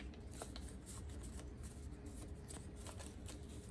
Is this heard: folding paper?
yes